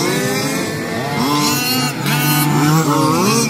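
Gas-powered 1/5 scale RC touring race cars speed around the Wagner Park track, their small engines buzzing and whining loudly as several pass close by in overlapping waves, with no one talking.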